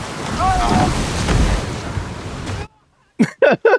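Water surging and crashing into a boat as it takes on water during a storm at sea in the Shogun series, a loud, dense roar that cuts off abruptly and is followed by short bursts of voice.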